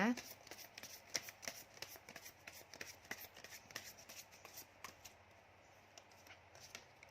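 Tarot cards are shuffled by hand in quick, crisp bursts of riffling and slapping, close and fairly quiet, continuing steadily before easing off near the end.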